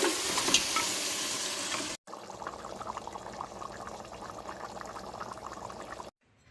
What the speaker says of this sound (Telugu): అన్ని గరం మసాలా, పసుపు, కారం అన్నీ కొంచెం అక్కడ సైడ్ లో గరం మసాలా అన్ని తిప్పాలి